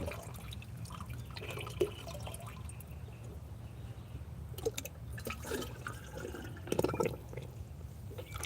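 Water being moved and poured in a suburban homestead garden while it is treated with JMS microbial solution: intermittent drips, splashes and pouring over a low steady background, with no talk.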